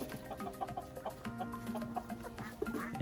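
Chickens cluck in a backyard coop, a steady run of short, close calls over a busy farmyard bed of sound with no talking.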